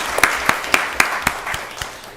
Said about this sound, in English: Y'all give Miss Gilstrap a round of applause.